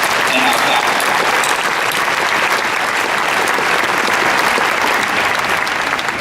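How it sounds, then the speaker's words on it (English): Steady, dense applause from a large commencement crowd honoring law school graduates and faculty, a continuous wash of clapping that holds at an even, loud level throughout. "Let's recognize that with a round of applause to our graduates and our faculty"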